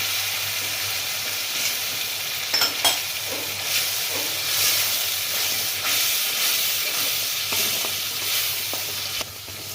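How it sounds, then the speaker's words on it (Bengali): Spice paste with ground prawns fries in a pan for potol korma, giving a continuous close sizzle and hiss broken by stirring scrapes. "মশলাটা এই কারণেই ভাজছি এর মধ্যে চিংড়ি মাছটা আছে সেইভাবে একটু বেশি সময় ধরে ভেজে নিচ্ছে"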